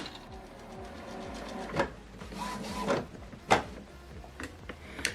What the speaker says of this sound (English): the ink will position itself for you to replace it